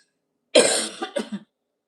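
One close, loud cough followed by a couple of shorter throat-clearing bursts, then silence.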